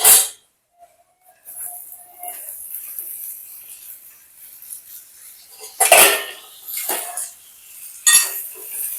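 Spices and chopped sponge gourd being mixed with a utensil in a cooking pan, giving a few sharp metallic scrapes and clinks against a quiet kitchen background, with no talk.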